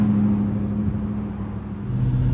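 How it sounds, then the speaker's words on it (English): A manual British Leyland Vitesse with a V8 of nearly 200 brake horsepower gives off a steady, deep engine drone. It holds one low, even tone close by, with no voices over it. "this manual version of the Vitesse here with that thumping great V8 soundtrack"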